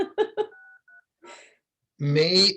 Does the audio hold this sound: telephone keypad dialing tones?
yes